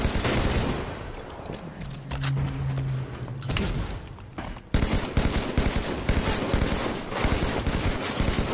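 Rapid bursts of battle rifle gunfire in a Halo 5 Guardians multiplayer match, sharp close cracks repeating in dense volleys with a brief low tone in the middle and no voices.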